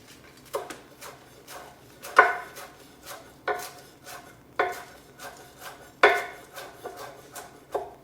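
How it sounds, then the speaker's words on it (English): A knife roughly chops basil leaves on a wooden board, giving close, fairly quiet, uneven thuds spaced about a second apart. "You can give it a quick, rough chop."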